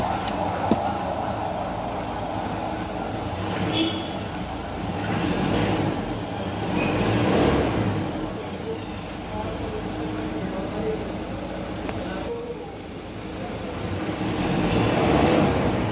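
A Ford Ranger with an EGR fault runs after an engine reset, a steady mid-level engine drone that rises and falls slightly over sixteen seconds, with light clanks and background noise.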